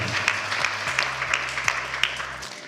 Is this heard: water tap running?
no